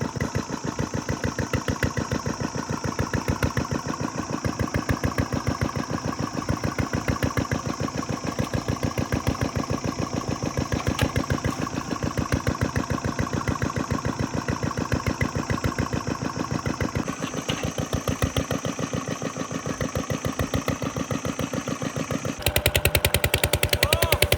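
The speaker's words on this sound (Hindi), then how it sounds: "6-7 माह बाद जी हम पीटर इंजन स्टार्ट करने लगे हैं" A Peter diesel engine runs steadily for a village tubewell, loud and close, with a fast, even chugging rhythm that continues without a break.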